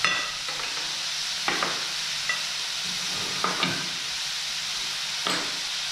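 Boiled potato and carrot for a vegetable puff pastry filling are stirred and fried in a pan, a continuous hissing sizzle broken by several distinct scraping strokes of a spoon, close up and with no talking.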